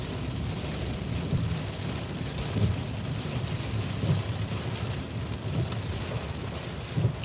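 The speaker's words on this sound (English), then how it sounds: "Look at that rain." Heavy rain pours down with thunder during a storm by a railroad crossing, a dense steady roar broken by several soft low rumbles spread across about seven seconds, with no voices.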